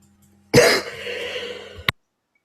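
A person indoors gives one loud, rasping cough that trails off into a throaty rumble, ending with a short sharp click in an otherwise quiet room.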